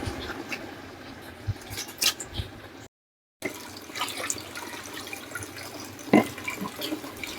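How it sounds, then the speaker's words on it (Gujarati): Quiet sloshing and trickling of water as urad dal is rinsed in a bowl, with a few small splashes and drips, no talking. "હવે આને આપણે ધોઈ લઈશું બે ત્રણ પાણી આપણે સરસ રીતના ધોઈ લઈએ"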